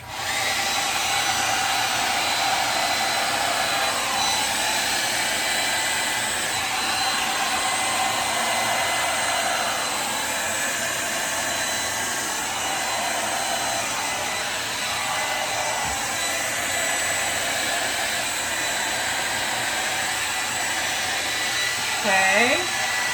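A hair dryer blows across wet acrylic pour paint in a Dutch pour, a steady close whooshing hum that runs unbroken throughout with slight shifts in pitch as it moves.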